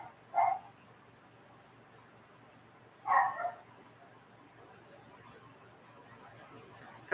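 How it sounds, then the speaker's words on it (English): A dog barking in the distance, two short separate bouts several seconds apart, faint against a quiet background with another bark starting at the end. "I don't know why that dog has been barking its fucking head off."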